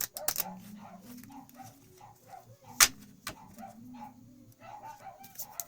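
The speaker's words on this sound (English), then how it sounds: "Just ignore my dogs." Several small dogs bark and yip repeatedly indoors, sharp close yaps in a rapid irregular series with a faint whimper, continuing throughout at moderate loudness.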